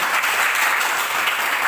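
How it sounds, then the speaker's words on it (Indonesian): A classroom group bursts into loud, dense clapping after a student teacher's lesson, sustained without a break for the whole short stretch. "ya boleh kasih tepuk tangan"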